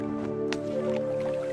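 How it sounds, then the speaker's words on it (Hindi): Two clay pots are lowered into water, making a close squish and drip with a soft wet splash over a steady background hum. "महाराज, अब आप इन दोनों घड़ों को पानी में डाल दीजिए।"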